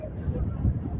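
Strong wind on Hong Kong's Tsim Sha Tsui Promenade during the Dragon Boat Festival buffets the microphone in a low, rumbling roar that fills the short moment.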